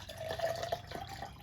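Water runs steadily into a container to mix a drink from a Danish 24-hour military ration, a brief continuous trickling pour with a faint tonal ring as the vessel fills.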